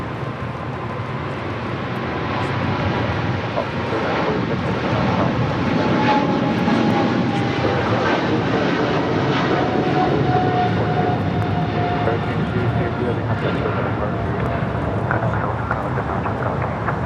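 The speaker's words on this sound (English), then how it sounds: "That was China Cargo Airlines flight 222 heading back to Shanghai, that 777 freighter" China Cargo Airlines Boeing 777 freighter departing LAX, its jet roar building over the first seconds and then holding loud and sustained, with a faint whine running through the rumble.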